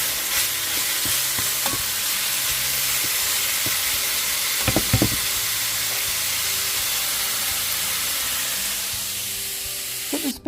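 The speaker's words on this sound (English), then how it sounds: "we're going to cook up some hamburger and add it to the turkey spaghetti" Hamburger meat frying in a pan for turkey spaghetti gives a steady, close sizzle that runs the whole time, with a few louder stirring clicks near the middle and at the end and no talking.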